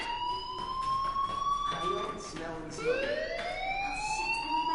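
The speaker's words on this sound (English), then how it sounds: "do you hear that fire alarm?" A fire alarm in the video game Life is Strange blares with a rising and falling electronic wail, loud and continuous, while people talk underneath it.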